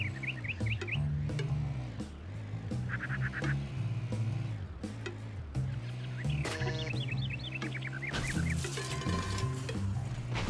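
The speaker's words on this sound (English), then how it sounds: "It's a generic bird sound that's been around since the 90s." A generic bird chirping sound effect in the video game Roundabout repeats in short bursts of tweets and honk-like calls over continuous game music and engine drone, fairly prominent and without talk.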